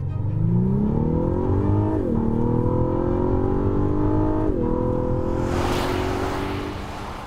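2021 Lexus LS 500 with its V6 engine accelerating hard, a steady climbing drone stepping through gear changes as the revs rise, heard from inside the car, loud and close, with no talk over it.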